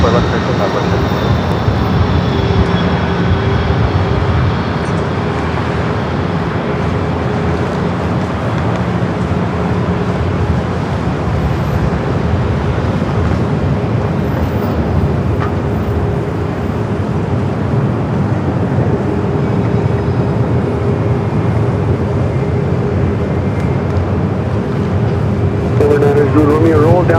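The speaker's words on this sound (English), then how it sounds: "That was a Challenger 850, and not have no clue who that was." A Challenger 850 business jet at LAX rolls past as a steady, loud broadband engine roar that holds for the whole stretch, with faint radio chatter and people talking underneath.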